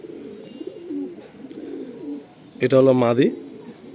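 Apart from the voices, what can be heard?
Kalanka pigeons cooing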